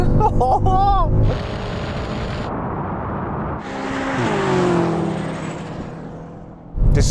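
A tuned BMW M5 roars past in a drag race, its engine note rising and sweeping by close and loud, with people talking over the noise.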